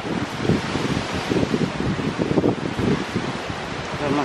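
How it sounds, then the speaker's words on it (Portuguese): Strong hurricane wind from Hurricane Ian blows steadily near a garage in Orlando, with broadband gusty rushing and buffeting against the microphone throughout, loud and continuous with no talk. "muito, muito vento ainda"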